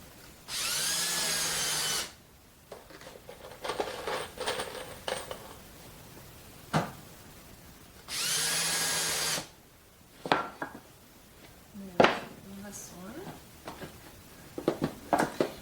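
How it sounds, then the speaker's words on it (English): A power drill drives screws into 2x4 boards for a beginner Christmas tree project, two sustained whirring bursts close up, each followed by clicks, clatter and handling of the wood. "So I'm going to start 2 screws. They're going to go in at 90 degrees."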